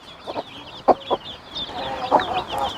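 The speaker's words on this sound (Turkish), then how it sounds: "Tavuklar." Chickens clucking nearby in short, scattered bursts, with a few louder squawks over a soft background of bird chatter.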